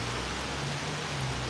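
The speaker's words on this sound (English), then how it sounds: "And I'm gonna go back in the rain." Steady rain falls outdoors on a cold day in Guangzhou: a soft, even hiss of drops with a low hum beneath and no talking.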